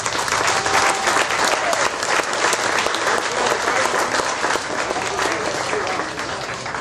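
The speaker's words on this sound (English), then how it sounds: "Let's have a round of applause for that." Loud, sustained round of applause from a large crowd at an event held at Canton Drop Forge, dense and continuous, tapering slightly at the end.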